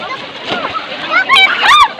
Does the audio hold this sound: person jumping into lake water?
yes